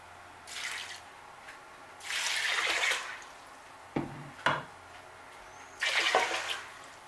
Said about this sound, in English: I'm just going to go ahead and add some water